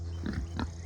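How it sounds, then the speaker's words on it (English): Pigs on a small farm grunt twice in quick succession, low and fairly close, over a steady background hum with no talking. "Gonna go over and feed the pigs."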